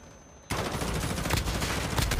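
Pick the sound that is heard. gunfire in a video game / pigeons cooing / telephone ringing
gunfire in a video game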